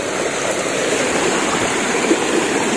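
A river where people fish for tilapia flows steadily nearby, a continuous rushing and gurgling of water with no voices over it.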